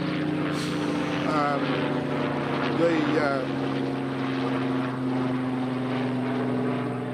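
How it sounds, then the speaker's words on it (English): A helicopter drones steadily overhead a stony dryland pasture site, with a low rotor hum and engine tone throughout, while a person speaks faintly at moments. "But there's a helicopter."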